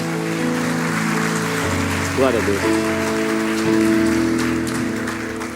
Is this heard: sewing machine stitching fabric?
no